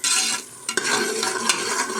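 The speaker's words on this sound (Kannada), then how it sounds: "ಈಗ ನಾನು ಕುಕ್ಕರ್ಗೆ ಹಾಕಿ ಚೆನ್ನಾಗಿ ಫ್ರೈ ಮಾಡ್ಕೊಳ್ತೀನಿ." Ground masala frying and being stirred in a pressure cooker for a fenugreek-leaf rice dish; a close, steady sizzle with scraping ladle strokes against the metal pot, no voices.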